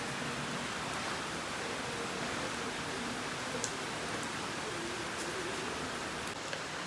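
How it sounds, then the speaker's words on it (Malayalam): Heavy rain pours down steadily, a dense, even roar of water with no pauses and no voices. "അപ്പം നല്ല മഴയുണ്ട് ഇവിടെ കാണിച്ചത്"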